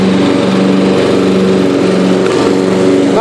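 A Yard King entry-level riding lawn tractor mowing, its engine a loud, steady close drone with a constant rough hum that never lets up, no talking.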